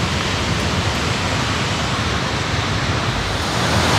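Loud, roaring waterfall at El Chiflón in Chiapas, Mexico, heard from the main viewpoint as a dense, unbroken rush of falling water close by, filling everything with no pauses.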